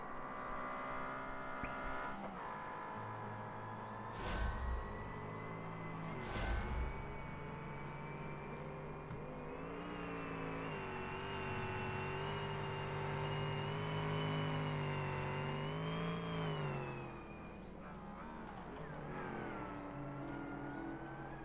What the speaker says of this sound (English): some of these cars sound amazing.